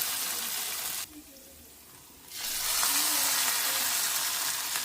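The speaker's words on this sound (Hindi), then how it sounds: "तो सुनिए तड़के की आवाज़ अब।" Cumin seeds hit hot oil for a moong dal tadka, giving a hissing sizzle that dips briefly to a quieter bubble and then surges back louder and broader, close and steady with no talking.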